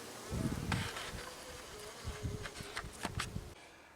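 Honeybees from a captured swarm buzz at the hive entrance, close and lively, with several bees droning past in overlapping bursts before the sound drops away at the end.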